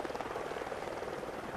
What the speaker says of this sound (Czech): A máme další vrtulníček, ten ale můžeme řídit sami.